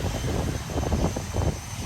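A small airplane's engine drones steadily at a tiny island airport ringed by mangrove-type trees, a broad continuous rumble with no voices.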